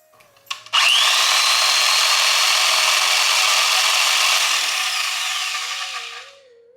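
A speed-adjusted 2-in-1 tufting gun runs continuously with a steady high motorized whir after a brief click, holding for several seconds and then winding down, close and loud.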